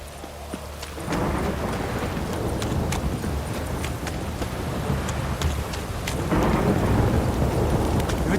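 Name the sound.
rain and thunder in the video game The Witcher 3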